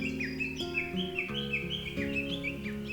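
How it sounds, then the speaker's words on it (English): Birds sing along a quiet summit bypass trail on Mount Nyukasa, with a steady run of bright, repeated chirps and short whistled phrases at moderate distance, layered over soft sustained background tones. "Only the birdsong echoed."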